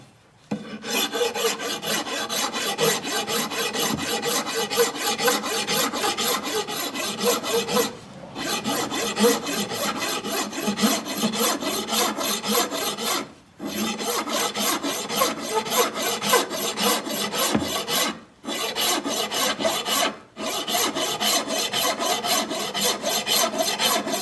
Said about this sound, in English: take this rasp and some sandpaper and remove the polyurethane coat